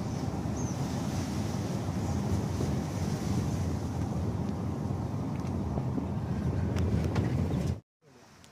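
Continuous rushing water with a broad, steady roar of waves and wind, close and loud, lasting throughout before cutting off abruptly near the end.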